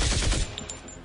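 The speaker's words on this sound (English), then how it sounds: "Clara fires her autocannon at Garakakal." Rapid burst of autocannon fire from a tabletop game sound effect, loud and dense for under half a second, then a fading tail.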